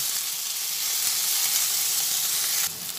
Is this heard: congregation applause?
no